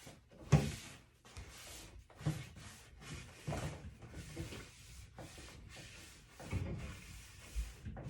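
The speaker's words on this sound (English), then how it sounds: "So I'm kind of wiping my hand very flat" Black glaze paint being wiped by hand across a creme-painted wooden buffet gives soft, close rubbing strokes in uneven bursts, with occasional light wooden knocks and no talking.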